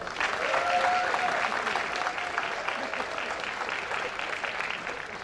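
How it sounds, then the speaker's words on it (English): A civic gathering audience gives a steady round of applause, a dense wash of clapping at moderate distance that keeps an even level from start to finish, with no voices over it. "Would you all please join me in giving Vivian another round of applause?"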